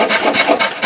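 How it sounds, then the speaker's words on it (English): A hand saw rasps through wood while cutting a half-blind dovetail socket, with quick, loud back-and-forth strokes in a steady rhythm, heard alone and up close. "Keep the saw blade vertical, but tilt it sideways to follow the bevel"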